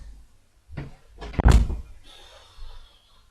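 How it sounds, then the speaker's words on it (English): A door is pushed shut on a miserable day, with a couple of soft knocks and then one heavy thud as it closes, followed by a faint creak and quiet room tone. "I'm just going to go and shut the door"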